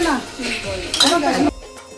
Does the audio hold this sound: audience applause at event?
no